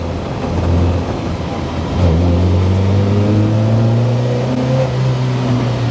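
Lotus Elise S1 sports car accelerating hard in second gear on a road, its engine note rising steadily in pitch as revs climb, loud and close from inside the cabin with constant road and wind noise beneath.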